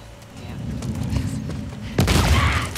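A bomb going off in The Last of Us Part II video game: low rumbling and thuds build, then one loud sharp blast erupts near the end and rolls on.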